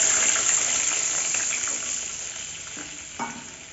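Tamarind water hits a pan of frying green chili gravy and gives a strong sizzle that gradually settles into softer bubbling frying noise, with a faint clink near the end.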